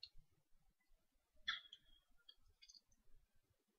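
Computer mouse clicks while opening a Minecraft Forge download link, a few sharp, quiet clicks spaced apart with small ticks and handling noise in between.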